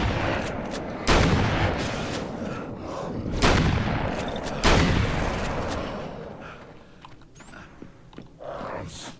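Shotgun blasts in the video game Alan Wake's American Nightmare: three loud, booming shots a second or more apart, each with a long rumbling decay, then quieter game sounds.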